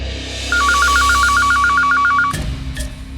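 A telephone rings with a rapid, warbling electronic trill for about two seconds, then cuts off with a clunk and some handling noise.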